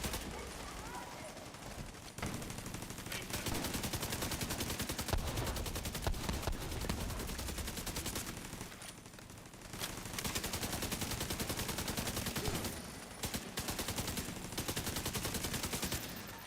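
Rapid automatic gunfire and launcher shots crackle almost without a break in a Division 2 firefight, with a player talking over the shooting.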